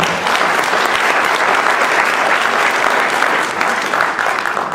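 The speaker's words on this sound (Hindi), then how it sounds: "एक बार उनके लिए, कम से कम उनके लिए एक जोरदार ताली हो जाए।" Loud, steady applause from a large audience, continuous clapping filling the whole stretch without pause.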